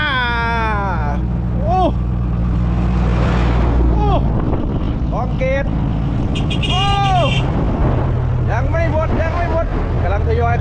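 Loaded dump trucks haul stones into Wat Don Yang temple in Surat Thani province. A steady low engine rumble with wind buffeting runs under near, excited talk throughout.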